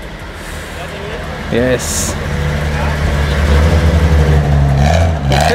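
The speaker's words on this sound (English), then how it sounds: "we've got the 1996 Toyota Celica GT4 pulling off" A 1996 Toyota Celica GT4 pulling off at an outdoor classic car show in Cork, engine idling and rising in a low steady rumble, fairly close, with someone talking briefly over it and crowd noise around.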